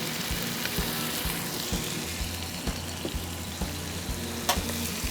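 Onions and vegetables sweating down in a pan with Italian seasoning, cooked for an Italian beef sandwich: a steady low sizzle with occasional stirring scrapes, close and moderately quiet, no voices.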